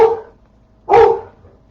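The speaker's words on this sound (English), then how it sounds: "It's my dog Ace." A dog gives two short, sharp barks nearby in a home kitchen, separated by a brief pause, with no talk during them.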